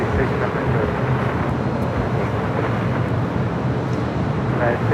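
A Delta Airbus A330neo waits for takeoff at LAX, giving off a continuous low jet engine drone and broad airport roar that stays fairly loud and even throughout.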